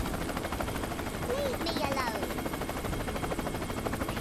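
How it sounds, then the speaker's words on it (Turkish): Helicopter attack in the Worms W.M.D video game: a steady whirring rotor drone with bursts of gunfire-like effects, heard under continuous talk from players. "Helikopter saldırı."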